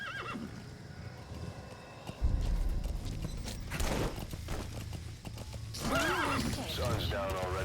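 In Metal Gear Solid V, a horse whinnies loudly and its hooves clip-clop over the ground, with a second neigh near the end, while a voice talks over it.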